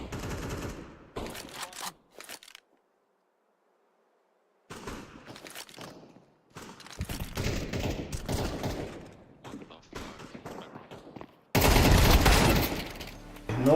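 Flashbang grenades thrown during a Counter-Strike match come amid rapid bursts of gunfire, sharp pops and footsteps, broken by a short near-silent gap, then end in a loud, sustained bright blast.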